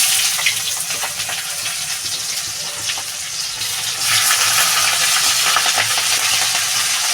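Chopped onion sizzles and crackles in a hot pan for bhot dal, a steady broadband frying hiss with occasional stirring scrapes that grows louder partway through, heard alone without talk.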